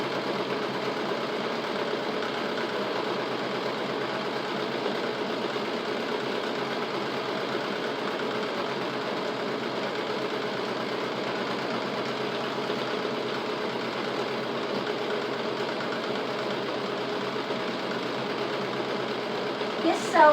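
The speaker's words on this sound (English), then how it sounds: "it's a very slow process as the sewing machine works its way backward and forward" A sewing machine stitching cushion and mattress covers hums and chatters steadily for a long stretch, a continuous, even mechanical whir at moderate volume.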